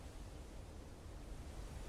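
A waterfall in the video game Blue Prince rushes in a steady, broad wash of noise, constant and even with no breaks or voices.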